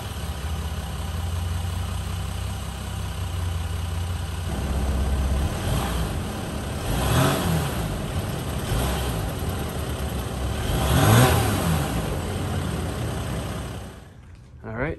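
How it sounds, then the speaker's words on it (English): A Jeep Wrangler JL with the 3.0 diesel and stock muffler cold-starts and settles into a steady, loud, rumbling idle, with a couple of swells in revs before it cuts off near the end. "So here's a before with the stock muffler and a cold start."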